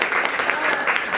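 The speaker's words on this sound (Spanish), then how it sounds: "Un aplauso" Short burst of audience clapping after a talk on artificial intelligence, loud and close, with uneven individual claps audible in the brief stretch.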